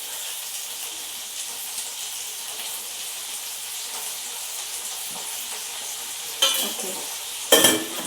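Fish pieces fry in oil in a pan, a steady close hiss of sizzling that carries throughout, with two sharper crackling bursts near the end and a brief word spoken.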